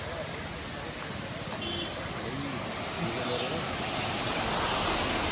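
Steady, loud broadband roar of a waterfall in Goa, continuous and unbroken throughout, with faint voices drifting underneath.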